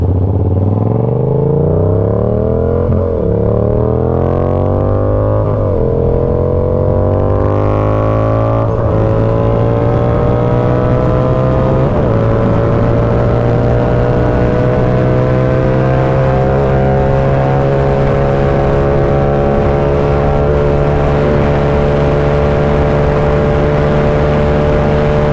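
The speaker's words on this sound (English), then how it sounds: "Still got a lot of popping on that exhaust." Yamaha R7 motorcycle with no performance mods accelerating hard toward top speed, engine note climbing through repeated gear shifts with a steady loud exhaust drone and faint pops underneath.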